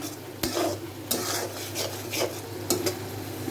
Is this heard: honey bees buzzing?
no